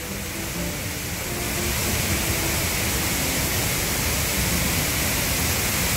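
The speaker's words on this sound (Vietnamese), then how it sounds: "Đó, giữa chân thác luôn." Broadband roar of Ban Gioc waterfall heard from its foot, a dense, steady rush of falling water that swells slightly and then holds loud and constant throughout, with no voices.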